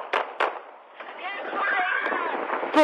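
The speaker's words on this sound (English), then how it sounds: "Shots fired." Police gunfire from body-worn camera footage of a shooting at a high school parking lot: two sharp reports early, then a muffled stretch of shouting and commotion, and a final loud burst near the end.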